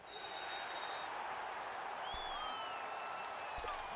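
Stadium crowd in the American football video game Madden 19, a steady wash of cheering and murmur holding at an even level throughout, with a few faint whistles and tones over it.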